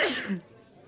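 A single sharp sneeze bursts out close by, then fades into quiet room tone during a tabletop fantasy game session.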